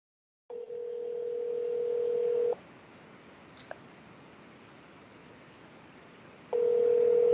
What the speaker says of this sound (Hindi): घंटी तो बज रही है।